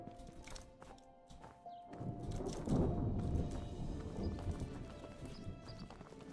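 Horse hooves clip-clop in a video game, a steady walking rhythm that swells and grows busier after the first couple of seconds, with a faint whinny-like tone in the mix.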